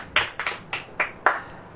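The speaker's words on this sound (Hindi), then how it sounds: "ताली बजाओ भाई, सन्नाटे में बैठे रहते हैं।" A congregation at a Christian church service claps hands in a loose, uneven run of about six claps, fairly close, with no voices.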